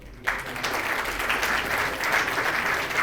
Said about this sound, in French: qu'on applaudit encore très fort pour cette présentation de ce recueil